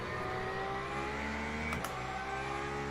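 Cadillac race car in Le Mans Ultimate, engine droning steadily and close with layered tonal harmonics, a brief sharp rise near the end as it passes or shifts.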